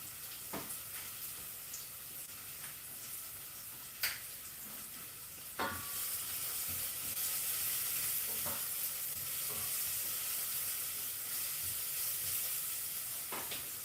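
Onions sizzling in hot oil in a pot for a dry fish dish, a steady broad hiss with occasional sharp pops and stirring clicks, growing slightly louder partway through, close and without talk.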